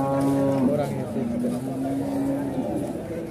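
A Pegon beef calf on a cattle farm moos in long, low, drawn-out calls. The calls are close and loud, with people talking nearby.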